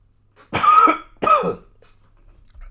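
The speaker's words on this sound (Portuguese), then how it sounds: "a garganta fica ressecada, eu começo a tossir" Two close, distinct coughs from a man with Parkinson's disease, about half a second apart, dry and fairly loud, followed by quiet.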